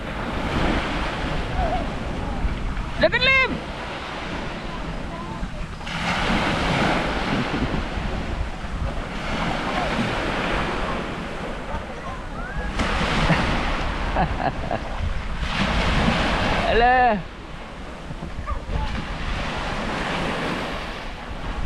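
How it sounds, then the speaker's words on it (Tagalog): Strong surf breaks on a crowded beach, with loud rolling waves and steady wind buffeting the microphone. Several surges crash in succession, and people call out briefly over the roar. "Ay, lakas nga naman ng alon. Delikado sa mga bata."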